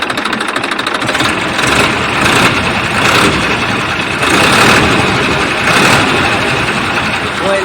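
A Massey 245 J series tractor's diesel engine runs at a steady idle, loud and close, with a rough knocking chug and a voice talking over it.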